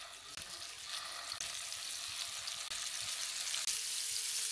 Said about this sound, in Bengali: তেলটা হিট হয়ে গিয়েছে, এখন আমি মাছ দিয়ে দিচ্ছি